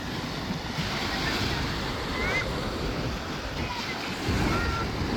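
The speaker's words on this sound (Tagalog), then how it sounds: "Sarap ng alon no." Ocean surf washes continuously onto a clear-water beach in the Philippines, a close, steady roar of breaking waves with gusty wind buffeting the microphone.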